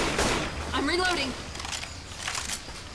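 AK rifle gunfire in the Left 4 Dead 2 video game, a few sharp bursts spread across the moment, partly under a player's excited voice talking over the game audio.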